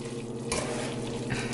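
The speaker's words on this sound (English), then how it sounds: "Actually, I'm gonna stir it real quick." Pasta carbonara stirred in a hot pan, a quick burst of scraping and soft sizzling, with two brief louder stirring strokes over a steady hiss.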